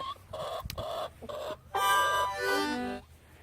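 Chickens cluck close by, a few short clucks followed by longer, drawn-out calls, with no talking.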